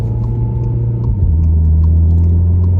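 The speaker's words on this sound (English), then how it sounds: "So just having a test drive in the Golf, get it up to temperature." A VW Golf R MK7 at Stage 3 tune with an IS38 hybrid turbo and Racingline performance parts drives on a road. Its engine holds a steady, loud, close droning hum, and the pitch drops partway through as if shifting gear.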